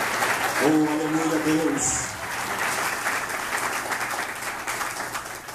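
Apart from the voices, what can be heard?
applause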